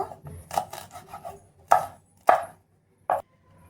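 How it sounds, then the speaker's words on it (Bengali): A knife chops green chillies on a board: a quick run of light taps followed by three louder, separate thuds spaced out, close and clear with no talking. "কাঁচা লঙ্কাগুলো একটু কুচি করে নেব"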